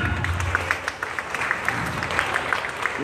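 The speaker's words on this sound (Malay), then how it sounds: "Beri tepukan." Audience at a live rock concert claps on cue at the emcee's call, a dense patter of hands with sharper individual claps popping out, moderately close and steady throughout.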